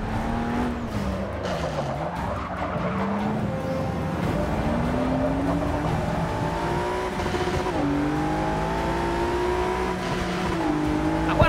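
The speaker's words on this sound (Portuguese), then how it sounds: "O motor desse carro tem um som muito maneiro" A loud 2017 Ford GT engine in Forza Motorsport 6 Apex roars continuously on the Rio de Janeiro circuit, its pitch rising and falling through gear shifts, with faint tire noise underneath.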